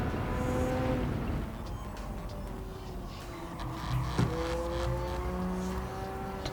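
A racing video game car's engine drones and revs while its tyres slide and scrub, a steady mechanical hum with shifting pitch and no voices.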